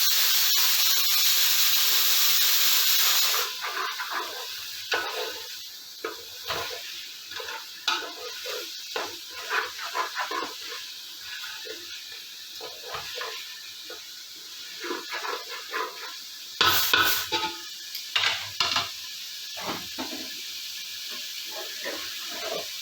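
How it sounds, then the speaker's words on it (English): Tomato sizzles in a hot pan while dal makhani cooks, a steady frying hiss broken by clattering stirs and scrapes, with a burst of louder spitting midway; no talking. "when you get this sizzling sound, that means you've done a good job"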